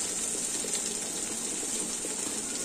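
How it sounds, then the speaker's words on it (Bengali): A little water is poured into a cooking pan of chilies and spices, making a steady, gushing hiss at a moderate level, uninterrupted and without talk. "সামান্য জল দেবো একটু।"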